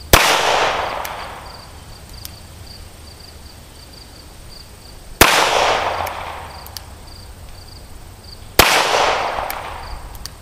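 Three sharp gunshots from a Nagant M1895 revolver chambered in 7.62x38mmR, spaced several seconds apart, each a loud crack followed by a long decaying outdoor echo, with faint insect-like chirping in the background.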